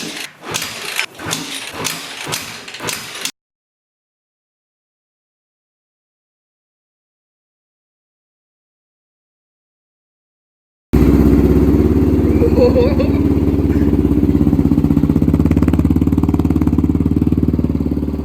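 Honda XR650R supermoto engine running: a few seconds of loud rhythmic chugging, a long stretch of silence, then a steady loud idle drone with a rough throb that carries to the end.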